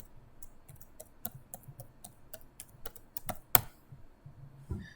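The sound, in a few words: typing a password on a computer keyboard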